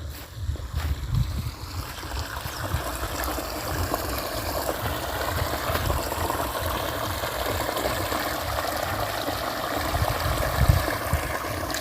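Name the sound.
water flowing into wheat field irrigation channel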